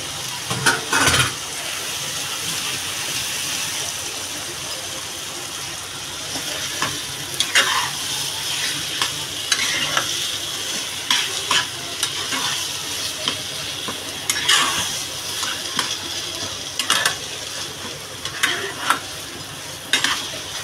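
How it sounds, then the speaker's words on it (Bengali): Mashed vegetables for pav bhaji sizzle as they are stir-fried in a pan, with repeated scraping and stirring strokes over a continuous loud fry. "এই সবজিগুলো সব দিয়ে দেবো আমি, দিয়ে ভালো করে এবার কষাবো আমি"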